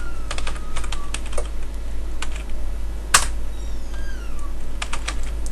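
Rapid clicking keystrokes on a computer keyboard, close and steady with irregular bursts and one sharper clack, over a low constant hum.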